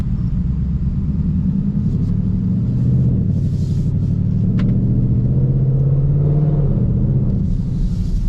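Ford Mustang S550 with a 10-speed transmission idling steadily nearby, a loud continuous low engine rumble that holds throughout with slight swells in pitch.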